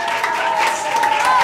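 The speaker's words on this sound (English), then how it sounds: "So please, once again, applaud for them." Audience applause after a rehearsal reading of the play The Lion and the Jewel, a short dense burst of clapping with voices mixed in.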